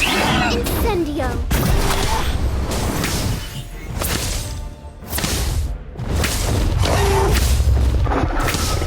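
The Incendio fire spell in the game Harry Potter Magic Awakened, heard as loud booming blasts and whooshing bursts in quick succession, with brief quieter gaps between heavy impacts.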